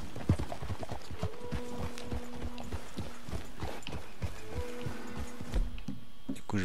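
Horses' hooves clip-clop at a steady walking rhythm in the open-world western game Red Dead Redemption 2, close and continuous, with someone talking over them.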